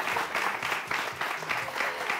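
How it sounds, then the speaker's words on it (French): Audience applause at a live French-language hosted show, rolling in rhythmic waves of clapping, moderately loud and without talk on top. "Merci de faire un tonnerre d'applaudissements pour la plus belle femme du monde"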